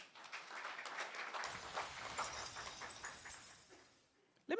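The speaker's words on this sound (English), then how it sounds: "That's why you clap for him." Audience applause at a research conference on competition and consumer welfare, sustained clapping from a fairly distant room that fades away near the end.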